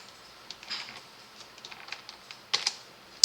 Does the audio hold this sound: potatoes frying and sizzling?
no